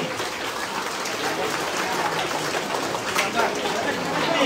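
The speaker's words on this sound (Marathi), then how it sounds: "कृपया सर्वांनी टाळ्या वाजवायला," A crowd at a temple gathering claps in a loud, continuous wash of applause that swells slightly toward the end, with voices mixed in.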